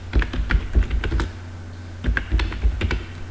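Someone typing a list on a computer keyboard, two quick clusters of close, crisp key clicks separated by a short pause, with a low steady hum underneath.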